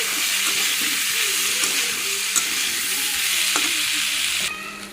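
Close, loud hissing sizzle of fried potato, eggplant and pumpkin being stirred in a pan, with scattered spatula scrapes and clinks; the frying noise drops away near the end.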